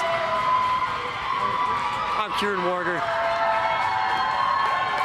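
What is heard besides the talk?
loud crowd cheering at college ice hockey rink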